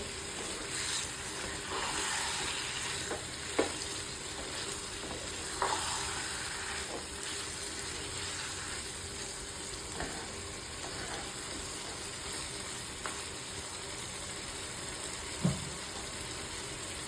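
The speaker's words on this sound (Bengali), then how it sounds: "মুরগিতে ভালো মতো মশলা মিশিয়ে দেবেন নিয়ে ভালো করে" Chicken pieces mixed with spices and whole fenugreek seeds sizzle steadily in a pan for braised chicken, a continuous hiss broken by a few scraping stirs and clinks.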